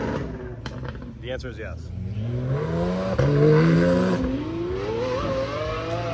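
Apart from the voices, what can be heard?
Lamborghini Aventador SVJ engine revving at supercar show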